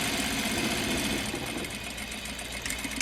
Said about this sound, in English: So I'm going to sew 1/2 inch seam allowance from the bottom all the way to the top.